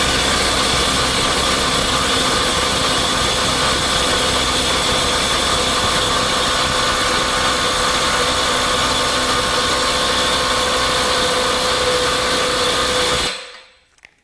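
A Milwaukee stubby impact wrench hammers continuously at 350 foot-pounds in speed 3, a steady, buzzing rattle held close for about thirteen seconds before it abruptly cuts off.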